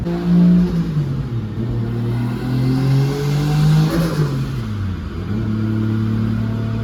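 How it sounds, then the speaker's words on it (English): A 1JZ-GTE VVTi engine on stock wastegate runs a dyno pull, a loud, close engine tone rising steadily in pitch as it revs up, then dropping sharply and settling back near the end. "So now we're gonna do a dyno pull without the boost controller on, so it's just stock wastegate."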